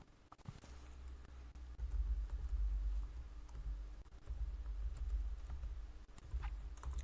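Computer keyboard typing during a Linux command-line setup, quiet rapid clicks and taps scattered irregularly over a low steady room hum, fairly close and soft.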